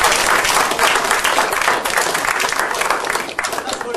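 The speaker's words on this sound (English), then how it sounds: "Give them a clap." Seminar audience clapping, a dense, loud burst of many hands applauding continuously for a few seconds, tapering slightly toward the end.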